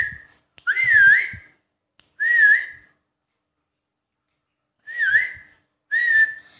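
A person gives four short whistle blasts with rising-falling pitch, spaced by silences, to call a pet lovebird to fly down to them; close and clear, no talk.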